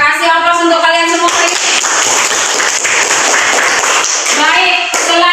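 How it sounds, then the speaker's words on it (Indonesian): Students burst into a round of clapping for about three seconds, dense and steady, with a voice heard briefly before and after the applause. "Kasih aplaus untuk kalian semua"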